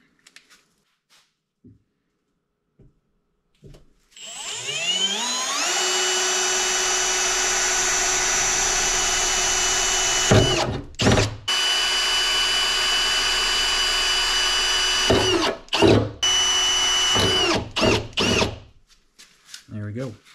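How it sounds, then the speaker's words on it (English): A power drill whines steadily at close range, broken by several brief stops and restarts as it bores through material. "go ahead and drill them out."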